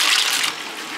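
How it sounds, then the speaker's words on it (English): Japanese restaurant machine dispensing ice and water at the same time, a loud, close, rushing pour that is strongest in the first half second, then continues slightly softer. "Does ice and water at the same time."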